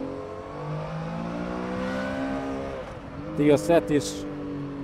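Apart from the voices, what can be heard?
Triumph Tiger Sport 800 motorcycle accelerating in road mode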